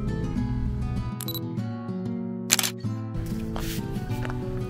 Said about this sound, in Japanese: それではこれで撮っていきましょう。